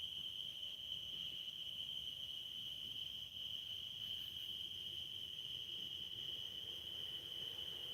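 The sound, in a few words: tree frogs calling outdoors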